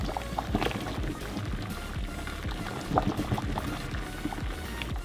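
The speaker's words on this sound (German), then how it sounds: "Jetzt, wo das Wasser kocht, geben wir die Spaghetti in das Wasser" Pot of boiling water with spaghetti added, a close, continuous bubbling and rolling churn with scattered small pops and splashes and no talking.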